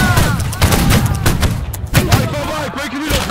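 Chaotic video-game battle with a line of soldiers firing a musket volley: a dense burst of overlapping loud gunshots and cracks, followed by scattered shots, with players' voices shouting over the gunfire.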